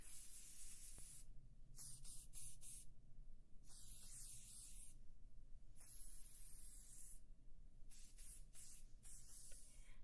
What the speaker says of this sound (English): I like to spray a bit on my scalp so it just doesn't burn